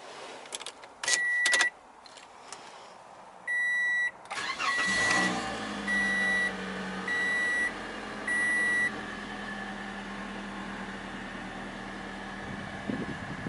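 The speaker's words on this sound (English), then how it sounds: "Hear that four-cylinder come to life." A 2016 Toyota Corolla LE Plus with a 1.8-liter four-cylinder engine: a few soft electronic chimes sound, then the starter cranks briefly and the engine catches, settling into a quiet, steady idle close by with repeated chimes.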